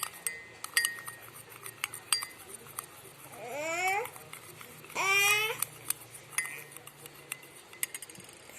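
A spoon clinks and taps against a glass while lime and honey are stirred into a homemade cough remedy, with light rhythmic chinks throughout and a baby babbling and crying briefly nearby.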